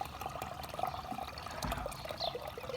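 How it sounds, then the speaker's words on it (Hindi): Water runs from the tap of a storage drum, a soft steady trickle and pour with faint splashing, fairly quiet and alone. "ये हमारी टूटी है जिससे पानी निकलता है"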